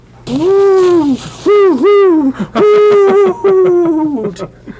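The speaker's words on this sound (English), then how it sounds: "That's just your owl friend again." An owl hoots several times in a row, loud and close, each long wavering call rising then falling, with short pauses between them and a final call trailing off.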